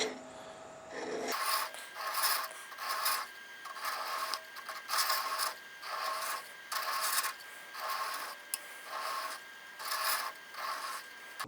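A hand saw cuts wood for a wooden water bottle in steady back-and-forth rasping strokes, close and fairly quiet, about a dozen rhythmic passes with no talk.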